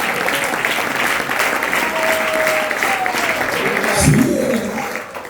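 A church congregation applauds during a Spanish-language sermon, sustained dense clapping filling the space, with a few brief voices and a short shout rising over it near the end.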